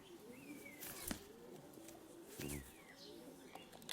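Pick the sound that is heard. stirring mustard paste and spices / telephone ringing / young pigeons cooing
young pigeons cooing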